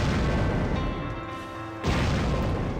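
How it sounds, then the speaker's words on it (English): A crazy chef boss in a Sega Dreamcast game hurls exploding vegetables: dense, loud booming blasts that roar almost continuously, with a short dip before they surge again. "this crazy chef called Alexander who throws exploding vegetables"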